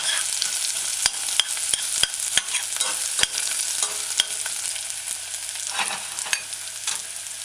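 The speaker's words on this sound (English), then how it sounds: "Stir it in a few times. Allow it to saute golden brown a little around the edges." Onions sautéing in oil on a medium-low stove while being stirred, a steady close sizzle broken by several sharp scrapes and clicks of the spoon against the pan, with no talking.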